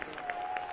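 A worship audience claps loudly in a brief burst, a dense wash of many hands sounding close and continuous.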